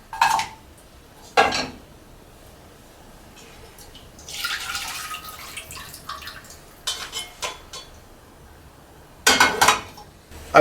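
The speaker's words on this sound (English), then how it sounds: "I'm going to take the sauce and pour it back into the frying pan." Red-wine sauce from coq au vin is poured back into a frying pan, bringing clinking pot and utensil sounds, a liquid splashing pour and a few sharp clanks close by.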